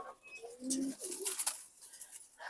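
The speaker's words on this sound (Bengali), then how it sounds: "নর কবুতর হ্যাঁ নর কবুতর" A male army-line pigeon of the jira-gola type coos softly in a short series of low, wavering calls, faint and close in a quiet loft.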